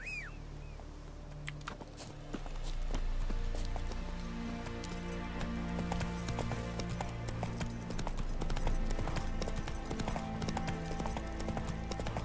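Roach the horse galloping in The Witcher 3: Wild Hunt, a steady rapid clip-clop of hooves on the ground, close and continuous over a low ambient game bed.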